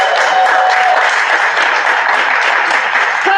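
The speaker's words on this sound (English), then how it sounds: "Clap till she makes it up to the stage" An open-mic comedy audience claps steadily as a comedian heads to the stage, a loud, even wash of applause with no pause.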